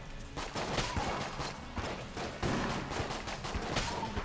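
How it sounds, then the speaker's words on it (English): Rapid video game gunfire in Enter the Gungeon crackles as dense, continuous bursts of shots throughout, fairly loud and busy with no talking. "I'm just shooting all of them, but not one of them enough."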